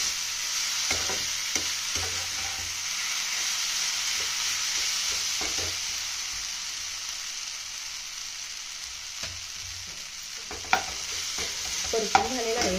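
Food sizzling steadily in a hot pan while being sautéed and stirred for a Maharashtrian fasting thali, with scraping stirs and a few sharper knocks of the spoon near the end.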